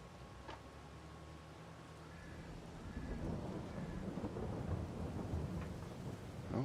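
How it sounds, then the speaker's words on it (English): Rolling thunder during a storm in Farming Simulator, a low rumble that swells over a steady hiss of rain and builds louder toward the end, with no voices. "Oh, and we got a little thunder."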